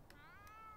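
A cat in The Sims gives a single short rising meow, faint and close, over a low background hum.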